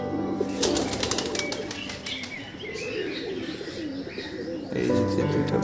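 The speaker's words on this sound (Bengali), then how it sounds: "এটা আমারটা খুব ভালো কবুতর" Pigeons in a flying loft coo and flap their wings nearby, bursts of wing beats and soft throaty coos with chirps, fairly close.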